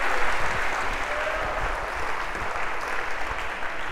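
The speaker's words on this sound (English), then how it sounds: "A round of applause for our first volunteer." A lecture hall audience gives a volunteer a round of applause, steady dense clapping throughout at moderate volume.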